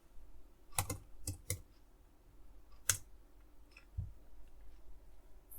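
Typing on a computer keyboard, a few sharp close key clicks in small clusters separated by quiet pauses, with one duller thud later.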